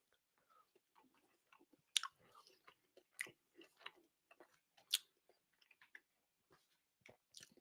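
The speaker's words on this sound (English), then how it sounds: "I have to stop chewing because I'll get in trouble." Soft wet chewing of Starburst sour gummies, close to the mic, with irregular sticky smacks and crunchy bites in an uneven rhythm, fairly quiet, with no talking.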